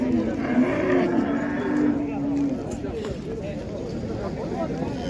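A cow at the Qarshi Karvon livestock market lets out a long, deep, nearby moo lasting a couple of seconds, followed by market chatter as people talk over the bustle.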